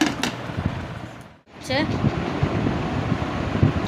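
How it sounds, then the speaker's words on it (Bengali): Gusty wind from Cyclone Remal rushes and buffets outside with rain, briefly dropping away then roaring back, while a person talks over it. "বাইরে ঝড় বৃষ্টি দুটোই হচ্ছে"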